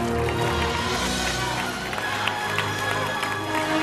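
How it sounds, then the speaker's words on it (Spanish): A crowd at a Baila Córdoba dance final applauds and cheers the champions and runners-up, producing a loud, continuous roar of clapping and shouts. "El aplauso gigante a los campeones y a los subcampeones."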